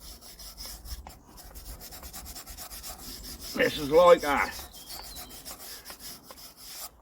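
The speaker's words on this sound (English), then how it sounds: "This is one of them cupped wire wheels what you put in a drill. I find them very good to use handheld." A cupped drill wire wheel worked by hand across the skids of a Lister diesel generator on a trailer, giving a steady scratchy rubbing that swells into a louder gritty burst midway, with a brief spoken remark.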